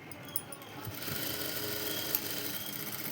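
Sewing machine stitching puff sleeves on fabric, a steady mechanical whir building after a few faint clicks and running continuously at close range.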